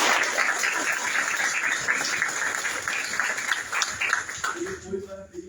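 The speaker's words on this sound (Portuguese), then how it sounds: "Uma salva de palmas também." An audience at a public lecture on Palestine claps steadily for several seconds, a dense wash of applause that fades out at the end as a voice begins speaking.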